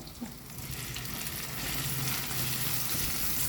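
Okra pieces dropped into hot coconut oil set off a dense, steady sizzle that grows and stays loud and close, with a crackling hiss throughout and no voices.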